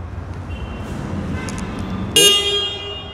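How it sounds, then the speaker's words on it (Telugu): Electric Bajaj Chetak scooter horn, a 2024 model, gives one short, loud electronic beep near the end, close by, over a low hum of traffic and surrounding noise. "ఇదేమో హార్న్ సార్."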